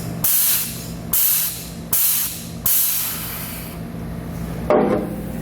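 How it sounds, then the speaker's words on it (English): A rivet gun sets rivets into a plastic panel while mounting a Demco Tabless base plate on a 2020 Jeep Cherokee, giving four loud, evenly spaced hissing pulls about a second apart, followed by a sharper final burst. "we can take our rivet gun and we can get the rivets set"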